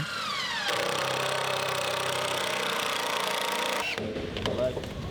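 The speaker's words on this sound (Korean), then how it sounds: "드릴로 구멍을 뚫고 망치질도 하고" A power drill bores holes in an art studio in Gimhae where a small one-pyeong house installation is being built: a loud, steady motorized whine for several seconds, then a few knocks and clatters as it stops.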